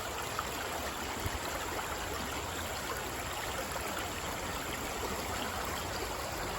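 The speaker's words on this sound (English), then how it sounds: "Just watching the water flow." Creek water rushes and burbles in a steady, even flow, with no voices.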